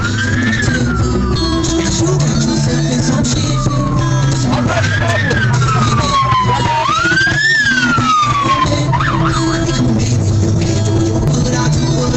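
Police car siren wailing in rising and falling sweeps through traffic, loud and close, over a steady rumble of engines, with a brief rapid yelp near the end.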